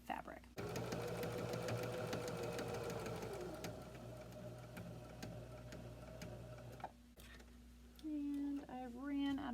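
A sewing machine stitches fabric in a fast, steady mechanical whir with rapid ticking for about six seconds, stops, then runs briefly again as a person talks nearby.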